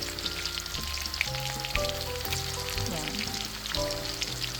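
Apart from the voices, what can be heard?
onion frying in a pan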